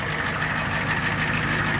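A lifted Ford IDI diesel truck idles with its exhaust rumbling, a loud, close, steady low drone with a faint rhythmic knock and no talk.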